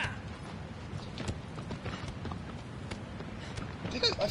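Horse hooves clop and gallop steadily in Shadow of the Colossus on PS4, a soft rhythmic patter under a game soundscape, with a person speaking faintly over it.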